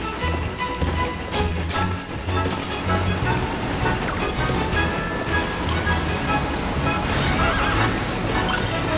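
Horses whinny and neigh in the Puppeteer video game amid a busy, noisy game soundtrack, with repeated loud cries over rumbling action.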